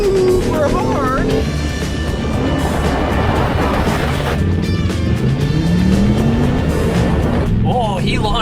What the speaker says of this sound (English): Oh, great launch of the i8.